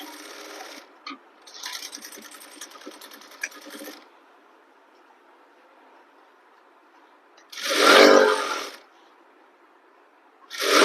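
A sewing machine stitches a seam on a garara suit in short bursts of rapid whirring and clatter, a quiet pause, then a louder burst near the end.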